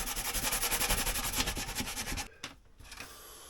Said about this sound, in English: Just going to give this little top bit a sand.